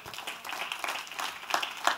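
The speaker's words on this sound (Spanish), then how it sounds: "Den un aplauso al Señor" A church congregation claps for the Lord during a service, a steady crackling patter of many hands that swells and surges near the end, with a faint voice underneath.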